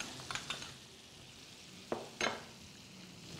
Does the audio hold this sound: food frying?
yes